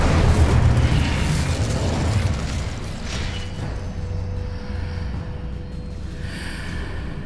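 Incendio fire spell cast in Hogwarts Legacy, a loud roaring burst of flame at once that slowly fades into a quieter hiss and a faint lingering tone.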